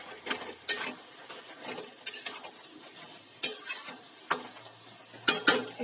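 Bottle gourd curry with chopped coriander leaves is stirred in a pot, a soft simmering sizzle punctuated by several sharp spoon scrapes and knocks against the metal, close and unaccompanied by talk.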